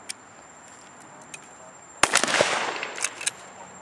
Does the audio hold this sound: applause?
no